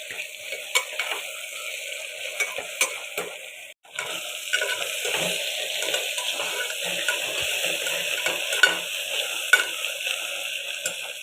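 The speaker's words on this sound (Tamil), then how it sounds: "இஞ்சி போட்டு அதையும் சேர்த்து நல்லா வதக்க விடும்" Steady sizzling as tomato and ginger sauté in a pan for mutton curry, with occasional stirring scrapes and clinks, continuous and close, no talking.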